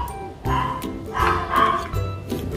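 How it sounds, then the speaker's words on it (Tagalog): A dog barks in the background while pork chop bistek is being cooked in a kitchen, with several short bursts spread across the moment and mixed with kitchen noise. "May asong kumakahol."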